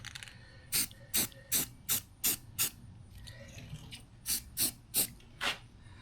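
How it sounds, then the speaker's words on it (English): A can of Rust-Oleum rust reformer sprays in about ten short, sharp hissing bursts, a quick run of six and then a spaced group of four, close and clear against a quiet room. "First thing I'm going to do is hit it with some rust reformer. I'm just using the Rust-Oleum stuff."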